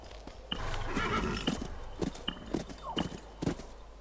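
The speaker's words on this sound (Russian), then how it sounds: "Вот и конь." A horse in the western game Call of Juarez: Bound in Blood whinnies loudly up close, followed by several sharp hoof clops on a hard floor spaced unevenly over a few seconds.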